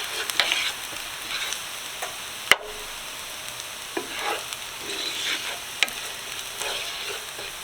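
Garlic sautéing in a pan, with a steady soft sizzle and occasional stirring scrapes and utensil clicks close by, and no talking.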